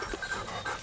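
A hunting dog panting outdoors in the woods, a close, rapid run of breathy huffs in a steady rhythm, fairly quiet and with no voices.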